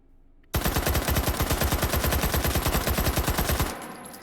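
An H&K UMP 9 submachine gun in the VR shooter H3VR, fired in one long, loud, steady automatic burst of rapid shots that ends abruptly and leaves a short fading tail.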